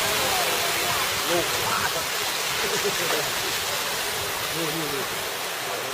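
Thi Lo Su waterfall, a tall waterfall giving a steady, loud broadband rush of falling water throughout, with people talking over it.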